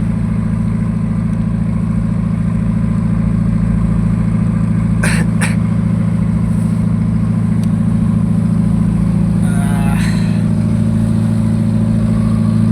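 A trawler boat engine runs steadily while the vessel tows two other boats on the way home from Dubla Char in the Sundarbans, a loud continuous low drone with brief higher clatter partway through and no speech.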